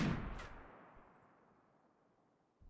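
A sniper turret fires once in the Rimworld video game, a sharp loud report with a long fading tail that decays over about two seconds.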